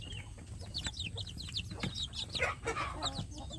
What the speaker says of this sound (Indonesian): dalam memelihara anak ayam kampung kita yang setelah menetas